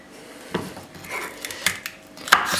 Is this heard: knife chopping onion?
yes